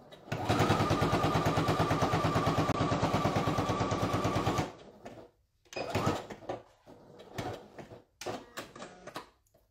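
A sewing machine stitching a leather zip pouch runs in a loud, fast, steady mechanical whir for several seconds, then stops and gives way to softer scattered handling clicks and rustles, close by with no talking.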